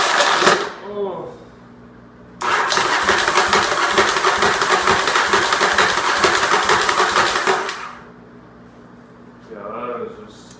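A Yamaha Virago motorcycle starter cranking with heavy clanking and grinding, a loud sustained mechanical rattle lasting several seconds, bracketed by short cranking bursts and faint voices before and after.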